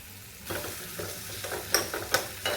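Capsicum, tomato and ginger fry in butter with a soft sizzle. Sharp spatula scrapes and clinks against the pan come at irregular moments, and no one talks.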